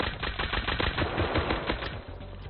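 Rapid gunfire from a gun in the online fantasy game FFXI Horizon, a loud, dense stream of sharp bursts with game sound effects, continuous through the clip with no talking.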